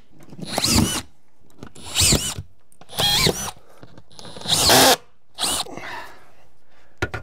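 A cordless power drill drives screws to fasten drywall during a stairwell storage remodel, giving about six separate short whirring bursts of roughly half a second to a second each, with quiet pauses between them, close by and with no talking.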